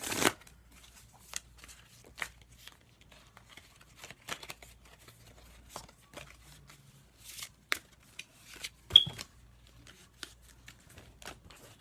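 Miss Cleo tarot cards being shuffled by hand, with repeated crisp riffles and snaps of card stock coming in short irregular bursts, close and fairly quiet.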